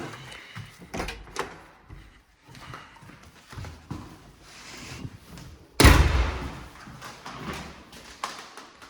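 An apartment door is pulled shut with one loud, close slam near the middle, amid quieter footsteps and handling knocks before and after.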